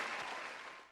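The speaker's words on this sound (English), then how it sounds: "Can Post Binjo please add some round of applause in the background?" Dense crowd applause fills the full second, a broad steady clatter of many hands clapping that fades slightly toward the end, with no talking over it.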